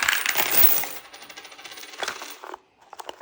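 Coins spill from a cash-stuffing envelope in a quick jingling burst, then a few scattered metallic clinks settle close by, with no voices.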